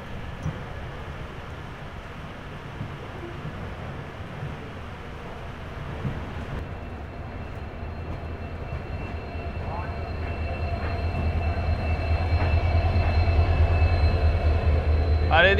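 The Sairang–Anand Vihar Rajdhani Express departs New Jalpaiguri with a steady rumble that grows louder and heavier as it gathers speed, under faint voices.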